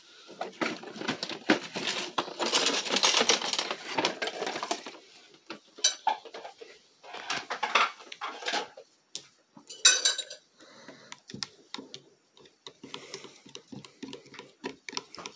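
A spoon clinks and scrapes against a cup while chocolate milk is mixed, with a burst of rapid rattling stirring followed by scattered light taps and clinks, close by.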